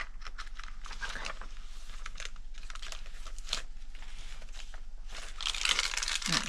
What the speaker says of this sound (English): That nice crunchy paper there.